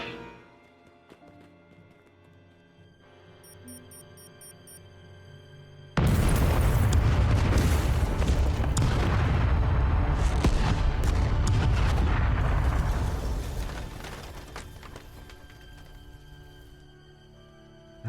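A massive explosion in a remastered classic video game erupts after quiet ambience, a loud sustained roaring blast that rumbles for several seconds before slowly fading.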